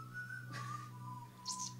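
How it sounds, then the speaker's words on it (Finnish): A person whistles softly, holding a sustained tone that slides gently downward, with a brief higher chirp near the end. "Mä pystyn viheltämään nyt, saatan."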